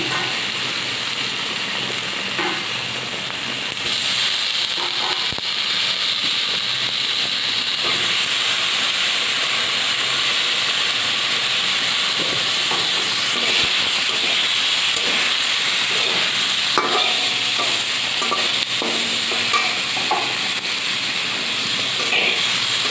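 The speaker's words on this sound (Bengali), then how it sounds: "ভালো ভাজা ভাজা হয়ে গিয়েছে। এবার ঝিঙেগুলো দিয়ে দেবো।" Fish, potato and ridge gourd frying in a pan, a steady loud hiss of hot oil running throughout with faint scraping of stirring now and then.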